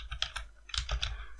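Quiet keystrokes on a computer keyboard while an email address is entered into a web form, a loose run of light clicks and taps at close range with no voices.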